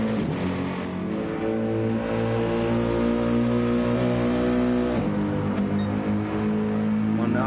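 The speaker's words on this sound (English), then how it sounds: "It's a funny sounding V8 that." A Lexus V8 race car at the Nürburgring 24-hour pre-qualifying, its unusual-sounding engine droning loud and steady with shifting harmonics, a brief gear-change dip midway, then pulling on as it passes.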